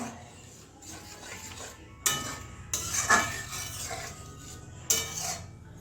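Spoon stirring turmeric into mung dal in a pot, with soft scraping and several sharp metallic clinks against the pot's rim and sides, close and fairly loud.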